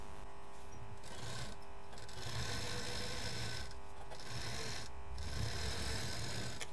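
A sewing machine stitches a zipper and piping onto a cushion cover, with a steady, continuous mechanical whir that runs close and loud throughout and has brief slower patches.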